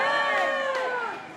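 Audience at the EPCOT Candlelight Processional during the Holiday Festival cheers and whoops loudly, a dense sustained roar that tapers slightly toward the end.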